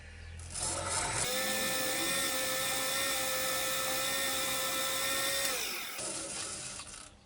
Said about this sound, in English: and then I tend to go over it with Scotch Brite pad.